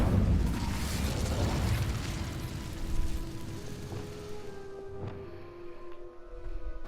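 An Incendio fire spell cast in Hogwarts Legacy makes a loud, broad fiery burst and roar that fades into a lingering crackle with faint ringing magical tones and a few smaller pops.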